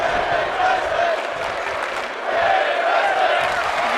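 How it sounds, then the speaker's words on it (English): Arena crowd in the WWE 2K24 wrestling video game roars and cheers steadily throughout, a dense wash of noise swelling again near the end as a pinfall is made at a Payback premium live event. "the crowd erupting as she covers the champion"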